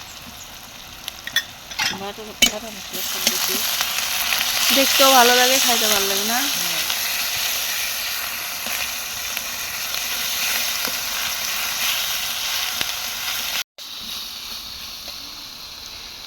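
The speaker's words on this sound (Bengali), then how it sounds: "পুরোপুরিভাবে মশলাটা কষা ইয়া মানে ভাজা হয়ে গেছে" Ground spice paste stirred and fried in a pan in a village home kitchen, a steady broad sizzle running throughout with scraping stirs, while voices talk over the first few seconds.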